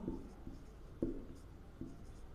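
Chalk or marker writing on a board during a Hindi-medium Class 12 maths lesson, with a few faint, separate scratchy strokes at irregular intervals and no talk.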